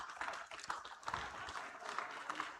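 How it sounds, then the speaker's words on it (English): A live audience at a Knight Riders fan event claps and cheers for two performers walking on stage, a dense, steady wash of applause heard from within the crowd. "A louder round of applause for the both of them"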